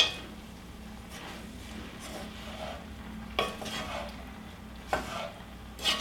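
Red cabbage with pears and cranberries being stirred in a hot pan, giving a soft sizzle with a spoon scraping and occasional sharp clinks against the cookware, close and fairly quiet.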